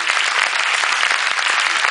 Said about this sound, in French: je vous demanderai d'applaudir bien fort